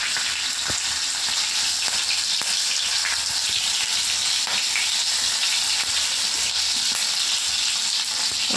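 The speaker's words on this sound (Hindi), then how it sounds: "तापरे कंचा मरच पकेवा" Green chillies sizzle and crackle in a hot pan, a loud, dense, continuous frying hiss with small pops and occasional stirring scrapes, no voices.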